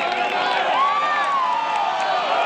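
Spectators at a women's professional golf tournament cheer and whoop after an eagle finish, a sustained crowd roar with rising shouts heard from a distance.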